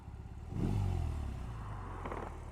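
A BMW R18 First Edition motorcycle engine pulls hard from low revs, a deep rumbling surge swelling loud near half a second and then settling into a steady throaty drone, heard close with no talk.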